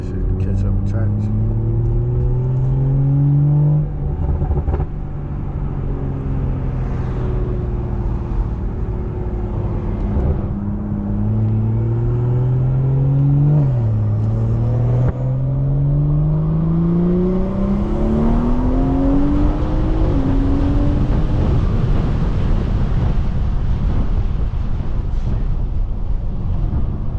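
A BMW 340i with a big turbo and straight-pipe exhaust pulls hard through several rising gear runs with short shift breaks. The roar is close and loud, heard from inside the car with wind rush behind it.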